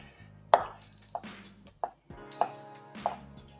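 A knife chopping bleu cheese on a cutting board in a home kitchen, five sharp knocks spaced roughly half a second apart, close and distinct against a quiet background.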